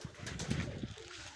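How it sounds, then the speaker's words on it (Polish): Homing pigeons cooing at a pigeon loft, a short run of soft, throaty coos close by. "Jest trochę tych gołąbków."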